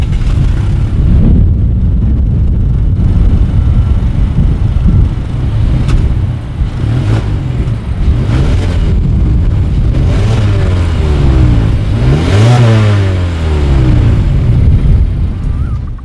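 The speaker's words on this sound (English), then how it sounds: "As always, here is that exhaust clip." A 2019 Mazda 3 engine rumbles loudly at idle, then revs up and down a few times with a deep exhaust growl, no talking.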